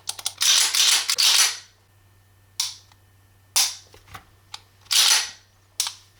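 Magazines ejecting from a Dan Wesson ECP 1911 .45 ACP pistol: loud, sharp metallic clacks and rattling handling noise in several separate bursts, close up with quiet gaps between.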